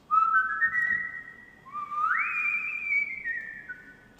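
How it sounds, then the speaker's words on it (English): Two sliding whistled phrases from a virtual orchestra sample library, the second rising higher, played alone over faint background noise. "in the end I use some whistle phrases"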